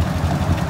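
A farm tractor's engine idles steadily, a low rumbling drone with a faint knocking pulse running through the short stretch, with no one speaking over it.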